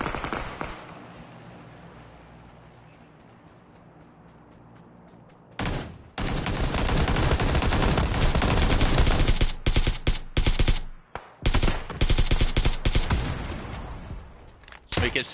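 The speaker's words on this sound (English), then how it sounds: "Somebody's shooting." Heavy video game gunfire in a firefight erupts after a quiet stretch: dense, loud automatic bursts and volleys that run almost without a break, with brief pauses and occasional single shots.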